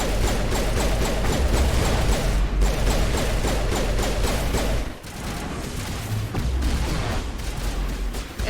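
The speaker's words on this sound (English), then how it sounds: "there's all the gunfire and there's the turrets too" Dense, continuous gunfire and turret fire in Mass Effect rattles without pause, rapid bursts overlapping with booming impacts and explosions, loud and close throughout.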